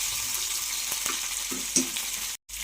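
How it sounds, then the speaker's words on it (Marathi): Green chillies and ginger paste fry in hot oil in a kadhai, a steady bright sizzle with a few soft stirring scrapes and clicks, close up with no talking. "आता मी याच्यामध्ये दोन हिरवी मिरची आणि थोडीशी अद्रकची पेस्ट टाकते आणि याला साधारण तीन ते चार सेकंद आपण फ्राय करून घेऊया"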